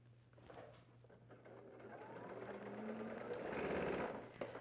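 A sewing machine stitching the seam of a men's dress shirt, running steadily with a rhythmic mechanical whir that builds slightly in loudness before stopping near the end.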